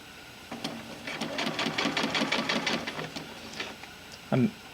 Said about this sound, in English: I'm just sewing up the line that I'd marked.